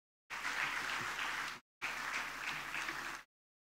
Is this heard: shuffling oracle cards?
no